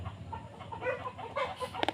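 Agitated chicken clucks and squawks in a noisy, close setting as the chicken is handled for slaughter, with a sharp flurry of louder squawks near the end.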